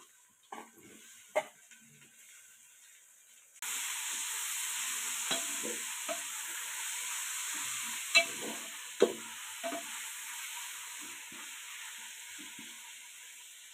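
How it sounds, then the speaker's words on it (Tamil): Tomato, coriander and mint sautéing in a pot for a one-kilo batch of kushka, a loud sizzle starting partway through with occasional stirring clinks and scrapes, no talking. "அஞ்சு நிமிஷம் வதக்கட்டும், மூடி வச்சுக்கலாம்."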